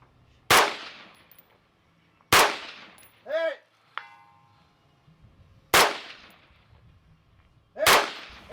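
5.56 rifle shots fired from the prone off a folded bipod at steel targets 500 yards away in high desert: four sharp cracks spaced a second or two apart. Faint delayed pings of steel hits and a brief voice sit between them.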